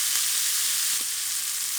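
Sausage and onion fry steadily in a pan for pasta alla zozzona, a constant close hiss of sizzling fat with a couple of faint stirring scrapes and no talking.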